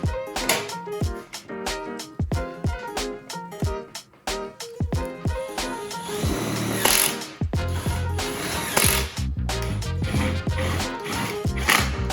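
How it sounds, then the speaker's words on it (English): Screws are driven with a drill into the mounting tabs of a carbon grille on a Subaru STI, heard as repeated close whirring and ratcheting bursts separated by short pauses. "You just drill straight into the actual grill."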